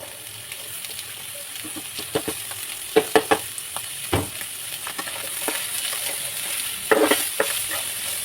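Minced meat and chopped vegetables fry with onions in a pan, a constant sizzle broken by repeated sharp scrapes and knocks of a spatula stirring, several clustered near the middle and again toward the end.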